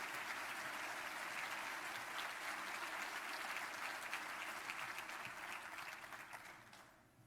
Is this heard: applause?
yes